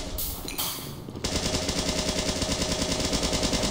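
A needle gun fires in a video game, first a couple of short bursts, then a steady rapid stream of evenly spaced shots running loud and close.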